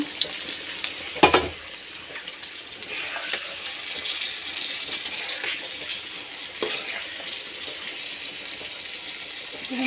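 Pieces of rohu fish fry in a pan with a steady broadband sizzle, moderately loud and close, broken by a few sharp clinks and scrapes near the start and a brief clatter midway; no talking.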